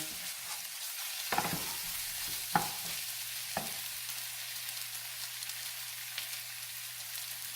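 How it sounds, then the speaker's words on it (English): Scrambled tofu frying in a pan as seasonings are stirred in, a soft continuous sizzle broken by a few sharp scraping stirs of a utensil, no voices. "she's just stirring in all the seasonings. Getting all the mixed in real good there."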